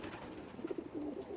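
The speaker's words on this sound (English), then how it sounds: "Here's a little group of ice pigeons that are clean-legged." A small group of clean-legged ice-colored pigeons cooing softly at home, low murmuring coos rising in a few short bursts, fairly quiet and close.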